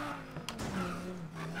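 Audi R8 widebody in Need for Speed Payback cruising with a steady, droning engine note and a brief sharp transient near the start, loud and close, no voices.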